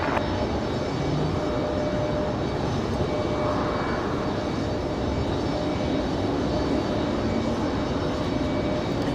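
JetBlue airliner in New York Jets livery arriving from JFK at Raleigh-Durham airport, a steady loud broadband engine roar sustained throughout without any voices.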